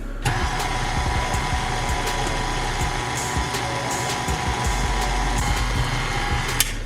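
A stand mixer with a paddle churns cake batter on low speed as flour is added, giving a steady mechanical motor drone with a rhythmic whirring grind and a few light clicks, loud and close, with no talking.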